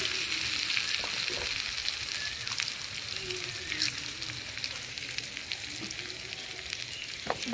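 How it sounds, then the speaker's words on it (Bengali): Ground spice masala being sautéed in a pan, a steady frying sizzle with occasional stirring scrapes and faint clinks, close and continuous. "মশলাটা দিয়ে দেবো, এবার দিয়ে কষিয়ে নেব"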